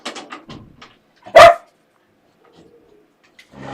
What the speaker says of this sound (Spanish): vamos a esperar un poquito porque los canes quieren salir